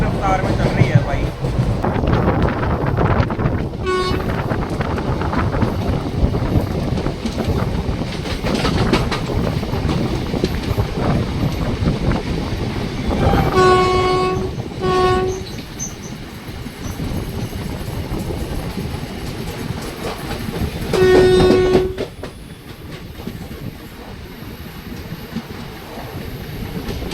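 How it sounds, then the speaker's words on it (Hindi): A superfast express train runs at high speed on the rails, heard from inside with a steady loud rumble, clattering wheels and wind roar, plus a few brief tonal horn or whistle blasts partway through; a voice speaks briefly over the noise. "ट्रेन जो है ना क्या ही ज़बरदस्त रफ्तार में चल रही है भाई"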